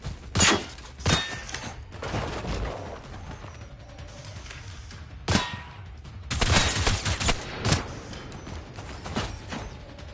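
Gunshots from a firearm in the video game Gen Zero, a few single sharp cracks and short bursts spaced irregularly with quieter mechanical handling between, loud and close.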